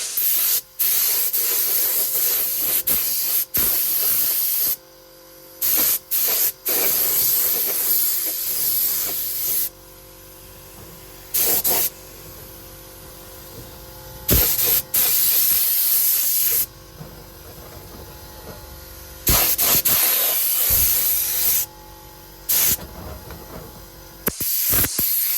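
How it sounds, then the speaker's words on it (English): A spray gun applying base coat to a Ford Escort engine rocker cover, in the car, gives repeated loud bursts of hissing spray separated by short quiet gaps, close and with no voices. "I just got it right into the gun and now I could get on with the first coat"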